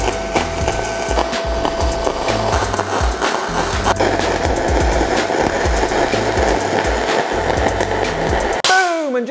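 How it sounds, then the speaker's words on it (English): A cheap TEMU budget welder running in a workshop gives a loud, continuous crackling, buzzing arc sound at close range. It stops abruptly near the end. "it's time to move back over to the TEMU welder"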